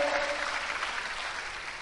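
A church congregation applauds during an Indonesian sermon, soft, even clapping from a crowd somewhat distant and steady throughout.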